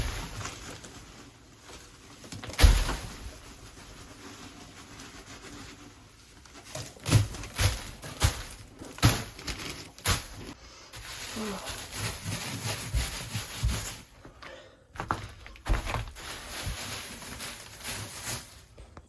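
Wood shavings are spread as bedding across a chicken coop floor in soft rustling, scraping bursts of irregular strokes, near and moderately loud, with faint birds in the background.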